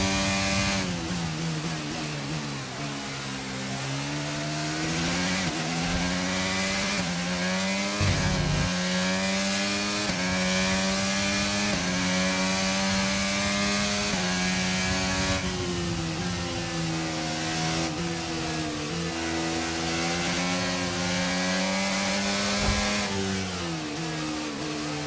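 Race cars in the F1 23 video game at the Miami Grand Prix, engines screaming continuously with pitch sweeping up and down through gear changes, loud and sustained throughout with no talk.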